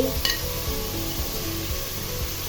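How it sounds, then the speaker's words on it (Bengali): Vegetables, cauliflower, carrot and flat beans, hitting a hot pan for a vegetarian winter khichuri, giving a steady, loud sizzle with soft stirring scrapes and no talk. "এই পর্যায়ে আমি সবজি দিয়ে দিচ্ছি, যে সবজিগুলো আমি রেডি করে রেখে দিয়েছি।"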